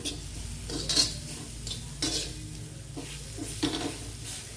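Karchikayi (cluster bean) curry is stirred in a pan with tomato and chilli powder: repeated scraping strokes of a spoon against metal over a soft simmering sizzle, close by and with no talk.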